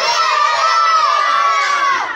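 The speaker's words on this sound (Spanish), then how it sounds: "Un aplauso para Simón Bolívar" A crowd of children cheers and shouts in unison, a loud, sustained burst of high voices at a school-style event honoring Simón Bolívar.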